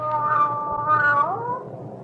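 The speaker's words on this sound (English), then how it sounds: "What makes you think she's a male cat?" A cat meows in a long, drawn-out call with a falling pitch at the end, close and clear over a low background hum, used as a sound effect in a CBS radio mystery drama.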